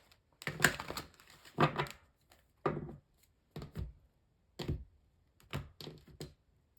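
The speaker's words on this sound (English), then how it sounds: "2 more shuffles" A tarot card deck is shuffled in a series of quick separate bursts, each a short riffling flutter of cards followed by a pause, close and fairly quiet with no talking.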